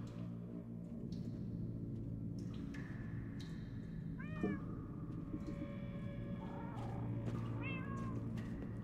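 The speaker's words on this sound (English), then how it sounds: "That almost sounds like... cats?" Cats in the Minecraft Story Mode video game meow several times, thin rising-and-falling cries over a steady background hum, one cluster midway and another near the end, fairly faint and with no speech.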